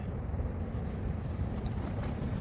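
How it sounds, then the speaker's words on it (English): Strong wind gusting to about 62 km/h buffets the microphone in a continuous low rumble, surging and easing slightly with the gusts, with no talking. "that's 62 kilometers per hour gusts"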